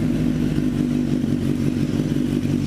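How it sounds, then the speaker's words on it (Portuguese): Motorcycle engine idling steadily just after starting, a close, continuous low rumble with even clatter throughout. "E aí a motocicleta pega."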